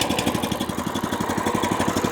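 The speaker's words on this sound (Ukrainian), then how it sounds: "Також дуже круто відгукається двигун." Engine of a 900 M3 walk-behind tractor running, a close, loud, steady chugging idle with a fast regular pulse throughout.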